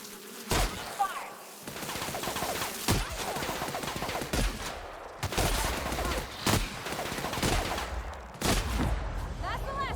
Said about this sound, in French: J'ai pas encore testé mon fusil à pompe. C'est le moment.